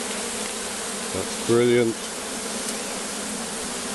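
A honey bee swarm gives a steady, soft droning hum throughout. A single voice talks briefly midway over the buzzing.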